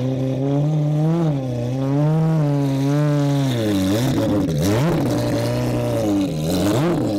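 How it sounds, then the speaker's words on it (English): An AWD four-rotor rotary car on a slow test lap, its engine droning loud and close with wavering, rising and falling revs, and a brief voice exclamation over the steady engine note. "I'm going to do a lap just up and down, not go fast or anything"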